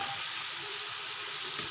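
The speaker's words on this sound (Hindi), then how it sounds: "हमारे मसाले में अच्छे से उबाल आ गए हैं, तो मैं सारे पनीर डाल दूंगी।" Paneer going into a pan of boiling masala gravy, a soft steady sizzle and bubbling hiss with a faint stir clink, quiet and close with no talk.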